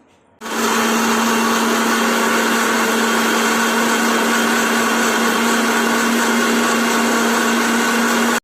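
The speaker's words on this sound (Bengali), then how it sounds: "মিক্সচারের বাটিতে দিয়ে পেস্ট করে নিচ্ছি অল্প পরিমাণ জিরে" An electric mixer grinder whirs as it grinds a spice paste of cumin and a little water. It starts abruptly, then holds a loud, steady, high-pitched hum with a constant motor tone until the end.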